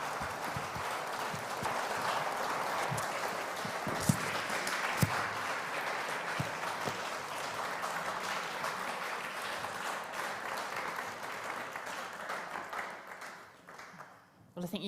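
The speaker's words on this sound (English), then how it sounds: "I think you can tell from the applause how wonderful that was" Sustained audience applause following a public health lecture at the Darwin Day Lecture 2022, dense clapping from a large hall that carries on evenly before tapering off near the end.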